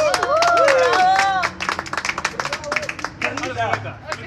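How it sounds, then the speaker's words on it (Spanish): Live-stream audience clapping and cheering, a dense burst of applause up front that thins into scattered claps with bright whistle-like calls and chatter underneath. "¡Un aplauso para ustedes!"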